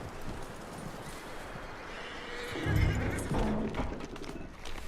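Horse sounds from Red Dead Redemption 2, a snort and whinny rising briefly over a steady outdoor game ambience, with a single short spoken word from a man near the start.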